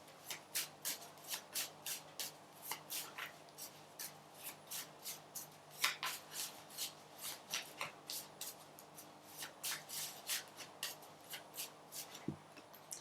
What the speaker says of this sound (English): Let's have a look at the Channel of Love cards.